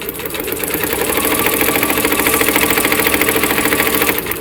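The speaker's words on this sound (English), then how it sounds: "you're going to be on a slow or medium speed depending on how comfortable you are with sewing with the machine" A Janome MOD 30 sewing machine runs continuously at a steady medium speed, giving a loud, close, even mechanical whir with a fast rapid pulsing of the needle action and no voices.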